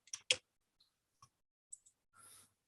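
Computer mouse clicks on an on-screen button: a few sharp, close clicks spaced apart in a quiet room, followed by a short soft rustle.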